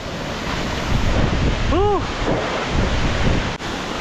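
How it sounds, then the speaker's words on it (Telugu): A loud, constant roar of rushing water from a waterfall near Mana Village, Himalayas, with wind buffeting the microphone; a brief chirp rises partway through. "Water fall."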